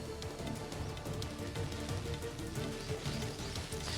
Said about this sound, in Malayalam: ഇപ്പോൾ മഴ പെയ്യുന്നുണ്ടെന്ന് മനസ്സിലാകുന്നു.